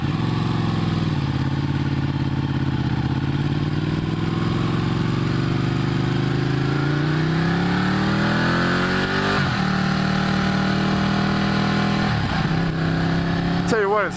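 A car in sport mode accelerates hard, its engine revving steadily upward in pitch, then dropping sharply at each smooth gear shift, loud and close throughout; someone talks over it.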